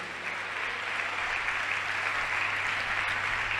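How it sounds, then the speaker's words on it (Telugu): A church congregation claps together in praise, a dense, steady wash of many hands sustained throughout at even loudness, with no talk over it. "చప్పట్లు కొట్టి ప్రభుని గనపరచండి"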